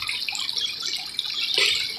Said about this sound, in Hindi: आप इस तरह से इसमें पानी जो है वो डाल लें